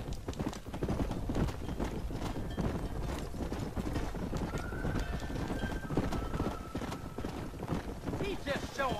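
Horse hooves clip-clopping in Red Dead Redemption, a continuous rapid drumming of hoofbeats, with a whinny partway through and voices talking over the gallop.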